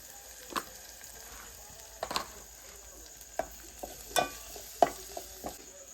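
Cashew vegetable curry with turmeric and masala stirred in a pot over a wood-fired stove in a Konkan village kitchen: soft scraping stirs and light clinks recur irregularly over a faint sizzle, close and quiet.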